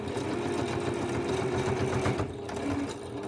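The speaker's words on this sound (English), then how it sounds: "I'm going to push this lower piece out, and then sew across it" A sewing machine stitches binding onto a fabric potholder, its needle running in a fast, even, close-up chatter that keeps going without a break.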